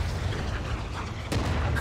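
Artillery barrage in Stranded: Alien Dawn rumbles as a low, continuous roll of distant booms, with one sharper blast standing out near the end, moderately quiet and without voices.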